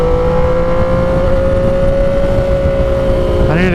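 Yamaha XSR 900 motorcycle engine on a street ride, a loud steady drone holding one pitch throughout, then rising sharply in a rev near the end.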